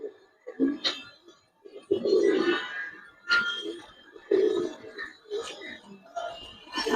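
Several domestic Giribaz pigeons of the Kaldum and Mushaldum colour types coo in low, throaty bursts close by, recurring irregularly alongside soft rustling, with a person talking in between.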